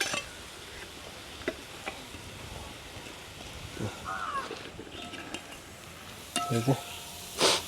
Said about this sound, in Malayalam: ഇനി ഇതിലേക്ക് നമ്മൾ കുക്കറിൽ അടിച്ചു വെച്ച കക്ക ഇറച്ചി